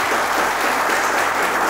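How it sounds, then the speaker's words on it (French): An audience claps steadily for a contestant, Nafissat, on a televised talent show, a dense, even burst of applause with no voices over it. "Elle s'appelle Nafissat, merci de l'applaudir."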